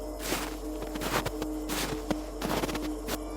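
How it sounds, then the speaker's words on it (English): Footsteps following through a dark forest at night, a run of soft crunching steps spaced irregularly at close to middle distance, fairly quiet over a steady low background hum. "But the sound followed me, footsteps just beyond the reach of the light."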